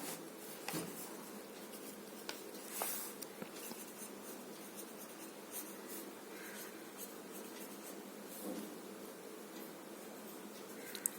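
Chalk or marker strokes scratching steadily across a classroom board as two triangles are drawn, a faint, continuous rubbing with small taps between lines and no talking.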